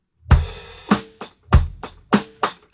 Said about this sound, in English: I've used one of my favorite kits ever, which is Abbey Road 70s Drummer by Native Instruments